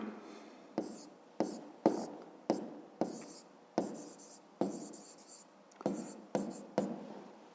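A pen writes on paper during a fifth-grade math exercise, making a series of about a dozen short scratchy strokes at an uneven pace, close and faint, with no talk over it.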